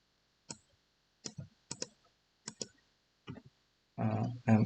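A computer mouse clicks six times in a quiet room while a ladder program is edited in PLC programming software, the clicks coming in close pairs and singles before a person starts speaking.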